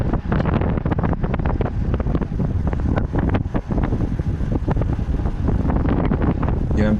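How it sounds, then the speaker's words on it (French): Heavy, gusting wind buffets the microphone of a moving bicycle, a loud continuous rumbling roar with sharp crackling bursts throughout and no clear pauses. "Il y a un petit peu de vent, on entend toujours un petit peu le vent."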